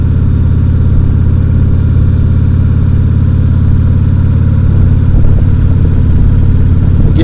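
A 2014 Harley Davidson Tri-Glide Ultra Classic trike cruises rural roads on the west coast of British Columbia, its engine a steady, loud, low rumble throughout with no talk.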